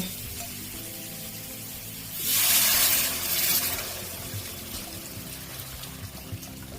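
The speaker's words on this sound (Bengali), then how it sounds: "এবার আমি জল দিয়ে দেব।" Water is poured into a pan of well-fried spice paste for a pomfret fish curry, a short hissing, splashing rush lasting about a second over a low background hum.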